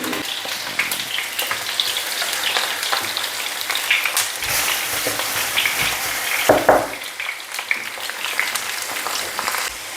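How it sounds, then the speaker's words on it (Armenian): Meat cutlets fry in vegetable oil in a pan with a loud, continuous, crackling sizzle that stays close and steady throughout, with no talking. "կոտլետ տապակեմ։"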